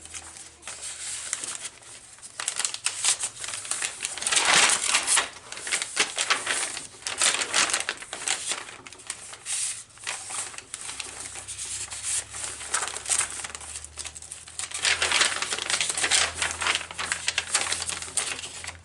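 Cardstock pages, deli paper, folded paper and a vintage bingo card handled in a large vintage junk journal, with continuous close rustling, crinkling and page flipping in uneven bursts, no voices.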